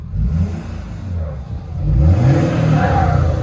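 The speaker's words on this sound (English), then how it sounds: "Who does not love the sound of a PowerStroke?" A 6.7L Powerstroke diesel engine in a lifted 2012 Ford F-250 rumbles loudly and close by, its deep throbbing idle rising as it revs briefly.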